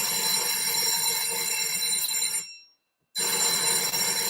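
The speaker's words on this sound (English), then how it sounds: "the bell is ringing again" A bell rings loudly and without pause, a bright electric clatter filling the space during an online tech talk, cutting off abruptly for about half a second before starting again.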